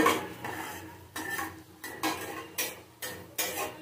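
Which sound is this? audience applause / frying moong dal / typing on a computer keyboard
frying moong dal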